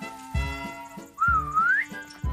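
Circus master whistling to call in a cartoon, a single rising whistle over rhythmic thumping background music.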